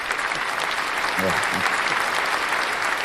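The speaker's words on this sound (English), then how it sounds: "Can I get a bit of a clap for that" An audience applauds with dense, steady clapping throughout, fairly loud, while a voice briefly speaks under it.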